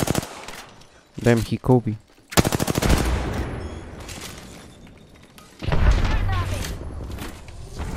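Apex Legends gunfire in rapid automatic bursts, loud and close, with heavy shots and impacts between them, while players talk excitedly over the action.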